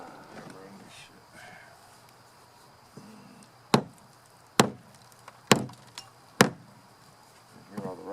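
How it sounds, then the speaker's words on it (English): A hammer strikes the metal edges of a Buick body panel in four sharp, evenly spaced metallic blows during rust repair before Bondo, with faint rustling and a murmuring voice around them. "So I'm going to try and hammer that in."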